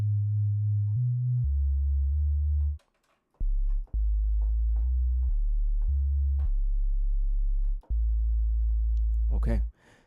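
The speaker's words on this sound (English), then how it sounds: "Okay, so we've made a bass sound." A synthesized bass line built from scratch in Reaktor plays a run of deep, pure-toned notes at changing pitches, separated by short gaps, loud and clean with a brief noisy burst at the end.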